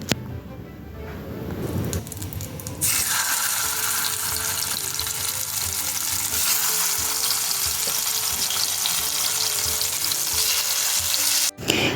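Fish frying in oil, a loud steady hiss and crackle that starts after a brief softer opening and holds for several seconds without speech.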